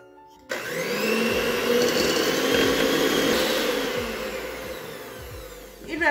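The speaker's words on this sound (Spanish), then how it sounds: "la pueden batir con su batidora eléctrica" An electric mixer whips cream steadily and loudly for several seconds, its motor pitch shifting slightly, then cuts off.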